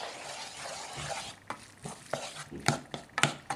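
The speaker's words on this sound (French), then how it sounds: "On mélange." A sauce with fish extract being stirred in a pan, soft sizzling under a run of clinks and scrapes that grow busier and louder toward the end.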